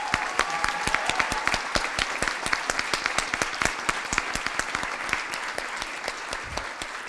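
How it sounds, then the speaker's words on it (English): An audience claps steadily at a student event, a dense round of applause with sharp individual claps standing out, sustained evenly for several seconds. "a round of applause."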